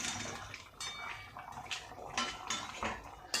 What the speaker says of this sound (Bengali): এই যে বড়াগুলো দিয়ে দিচ্ছি